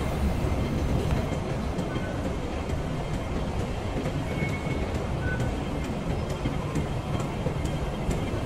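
A Hong Kong light rail train, route 705 near Tin Shui Wai, runs steadily with a continuous low rumble and faint rail clatter, close by and with no talking.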